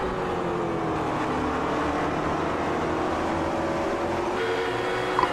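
Race cars lapping Mid Ohio in a sim racing game, a McLaren GT car among them, give a steady, loud engine drone with shifting pitch from nearby cars throughout, no talk.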